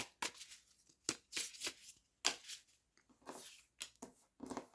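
Tarot cards are shuffled by hand in a quiet room, a series of short crisp riffling bursts at an irregular rhythm, close and fairly soft.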